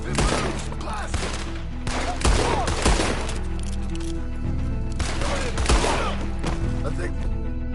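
Repeated gunshots crack and boom in Red Dead Redemption 2 during a shootout, irregular bursts of fire ringing out over a music bed, with a voice speaking in between.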